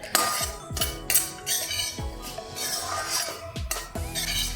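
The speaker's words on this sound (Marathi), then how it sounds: "आता एखाद दोन मिनिट आपल्याला छान परतायचे" Cashews, almonds, sesame and poppy seeds are stirred in ghee in a metal pan for ladoo. A spoon scrapes and clinks against the pan in repeated rhythmic strokes, with a faint sizzle underneath.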